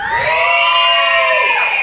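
A crowd of children at a church Children's Day service shouting together in one loud, sustained cheer, many high voices blending into a single held scream that drops off near the end.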